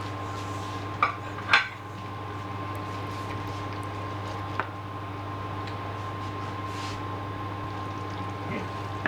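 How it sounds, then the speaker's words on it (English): A spoon clinks against a cooking pot while bacon is stirred for beef bourguignon, a few sharp metallic knocks and scrapes spread apart over a steady low kitchen hum. "A bit more stirring, mix it all in."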